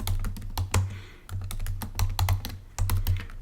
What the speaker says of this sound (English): I really am struggling on the typing today